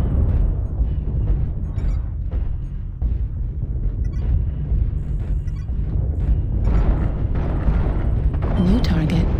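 Artillery strike explosions in MechWarrior Online, a dense run of heavy booms and rumbling blasts rolling one into another, loud and continuous, with a voice briefly heard over them.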